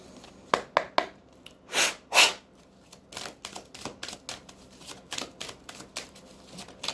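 Angel and prayer oracle cards shuffled and handled close up, a series of short papery riffles and flicks with a few louder bursts, irregular and alone in a quiet room.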